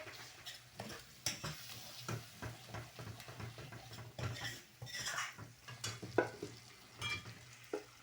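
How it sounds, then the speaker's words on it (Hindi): Mutton sizzles in a hot karahi while a metal spoon stirs and scrapes, with frequent close clinks against the pan. "अब इसको थोड़ा सा मैं भूनती हूँ"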